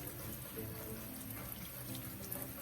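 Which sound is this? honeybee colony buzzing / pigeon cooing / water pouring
water pouring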